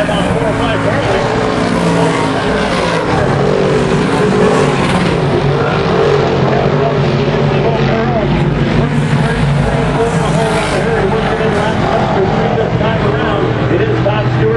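358 modified race cars at Mohawk International Raceway roar around the track in a dense, continuous wall of engine noise, loud and sustained with rising and falling passes, while a commentator talks over it.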